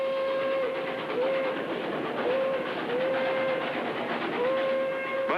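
An old wood-burning steam locomotive on a trial run over lightweight track, loud and steady rolling rumble with a steam whistle sounding in repeated held blasts, no talk.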